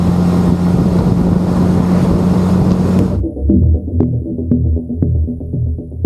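A BMW G310 GS motorcycle engine hums steadily while riding on a road with bends, loud wind-buffeted drone for about three seconds, then drops to a lower, quieter throb with faint clicks.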